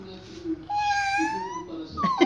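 A voice imitates a cat's meow, a drawn-out rising and falling wail, briefly and softly.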